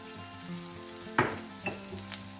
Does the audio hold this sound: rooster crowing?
no